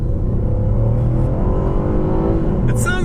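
A Chevy Impala accelerates at full throttle, its engine note droning loud and steady from start to finish as the revs climb, with a brief higher-pitched whine near the end.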